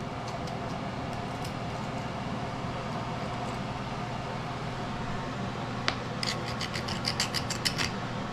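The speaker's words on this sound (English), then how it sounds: "Because I gotta sand around the edges around this window, all the way around, sand it down so I can get it all primered in nice." Sanding around a window edge on a 1984 Oldsmobile Cutlass Calais gives a steady, even rasping scrape throughout, with a short flurry of sharp ticks near the end.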